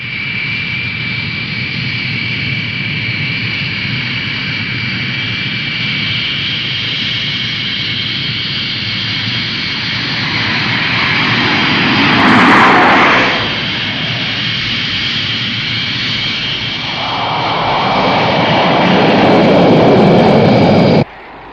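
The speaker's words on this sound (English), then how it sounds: "I'm ready for takeoff, Captain Scarlet" A jet aircraft takes off in a 1967 Captain Scarlet puppet TV episode, its loud, steady engine roar and whine holding throughout and swelling to bursts of rushing noise near the middle and the end.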